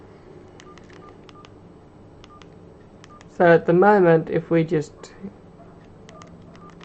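An Opel big button phone dials out with short, evenly spaced dialing tones, heard alone before and after someone speaks briefly in the middle.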